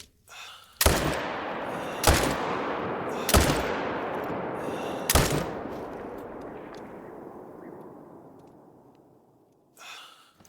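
Four loud, sharp semi-automatic rifle shots ring out in theHunter: Call of the Wild, spaced about a second apart, each trailing into a long echoing outdoor decay, followed by a faint breathy sound near the end.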